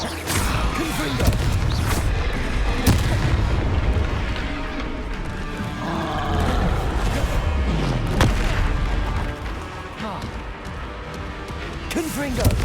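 Spell blasts and booming impacts from Hogwarts Legacy gameplay, a dense barrage of loud explosive bursts layered over game music and effects, with a voice calling out spells throughout.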